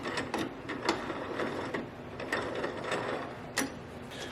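Cole jaws being fitted onto a wood lathe for turning a thin, dry yew bowl: faint metallic clicks and ratcheting taps scattered across a low workshop hum, close and quiet, with no talking.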